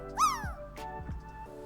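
A single clear cat meow, rising then falling, followed by a couple of softer low thuds over a faint steady background hum.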